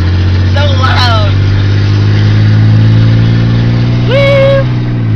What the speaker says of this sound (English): My truck's so loud because I don't have a muffler.